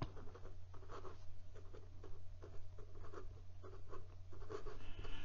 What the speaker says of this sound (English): I'm carving up a lot of paper with that nib.